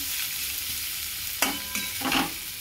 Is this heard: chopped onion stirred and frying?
yes